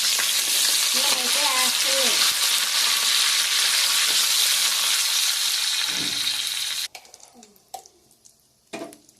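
Loud, continuous sizzling of cumin, urad dal, mustard seeds and curry leaves tempering in hot oil with a few stirring scrapes, then the sizzle cuts off, leaving quiet clinks.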